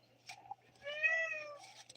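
A male Siamese cat with a gravelly voice gives a drawn-out meow of about three-quarters of a second, preceded by two short, softer chirping calls, close and fairly quiet.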